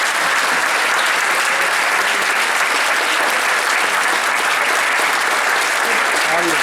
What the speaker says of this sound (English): can we just give them a special round of applause?